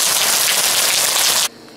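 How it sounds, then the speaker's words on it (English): Rain falling hard outside during work on a Miata NC, a loud, dense, steady patter and hiss that continues for about a second and a half before cutting off abruptly. "After it stops raining"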